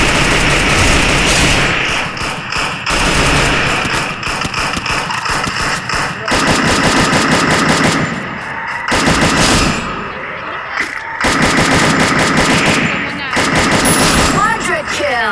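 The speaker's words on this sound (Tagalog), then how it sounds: "Oo nga, may nagbabarilan na rin." Gunfire in the Free Fire video game, loud sustained bursts of automatic shots in several long volleys broken by short pauses, with engine rumble beneath and some talk.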